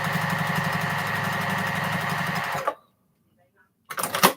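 A home sewing machine runs steadily at speed with a buzzing, rhythmic needle chatter for a few seconds, stops abruptly into silence, then briefly starts up again.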